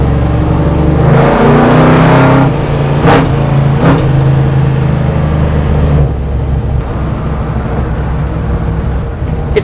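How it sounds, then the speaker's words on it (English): A HEMI-powered 1968 Dodge Charger land speed car revs hard at wide-open throttle, a loud, close engine roar that swells, peaks with sharp bursts, then eases back to a lower rumble for the final seconds, with no talking. "It really wants to be wide open throttle"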